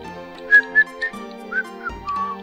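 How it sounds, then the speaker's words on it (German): A person whistling a short melodic tune while playing Legend of Dragoon, several clear pitched notes rising and falling over game background music, close and fairly loud. "Nicht pfeifen während Let's Plays."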